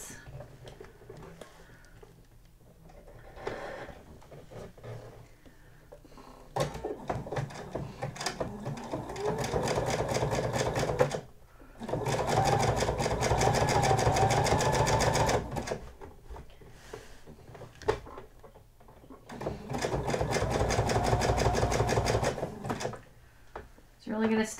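A sewing machine stitching a folded quarter-inch hem on a sequin hoodie: loud, rapid, steady mechanical whirring in several long runs separated by brief pauses, with a voice talking over parts of it.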